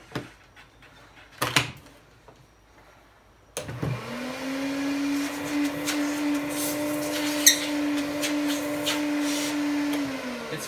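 An Electrolux ZA65 vacuum cleaner with its hose attached switches on after a few handling knocks, then runs with a loud, steady droning whine close by.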